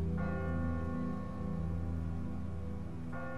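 A church bell rings from a bell tower in The Walking Dead video game, its deep sustained tones and rich overtones swelling loudly and steadily, with a fresh strike near the end and no talking.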